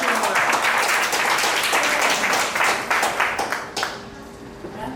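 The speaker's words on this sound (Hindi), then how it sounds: "जोरदार ताली के साथ आओ।" Loud, dense applause from an audience at a Valmiki Jayanti school event honoring a speech competition winner, steady clapping that thins and fades toward the end.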